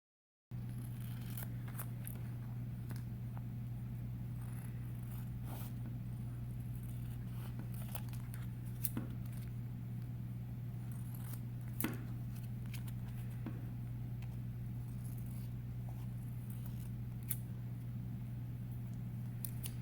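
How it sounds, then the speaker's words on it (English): Scissors trimming the edges of a laminated nature bookmark, faint scattered snips and crisp cuts spread over a steady low hum, close but quiet, with no talking. "you can take your scissors and trim the edges"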